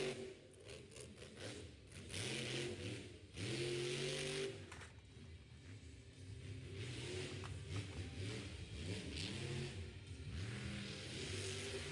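A truck engine revs repeatedly at a motorsports show in Miami, Oklahoma. The rising and falling engine tones repeat over and over, with crowd and arena noise in the background, and the whole scene sounds fairly distant.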